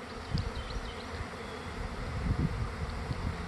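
Honey bees buzz at a hive about to swarm on an afternoon, a steady, close, dense hum with individual wingbeats flickering through it and no voices.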